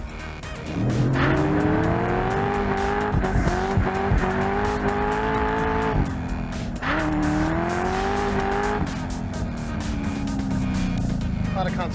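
A Chevrolet Corvette Z06 driven hard through corners roars loudly from the cabin, its engine note repeatedly rising and falling with tire squeal. Someone speaks over the noise throughout.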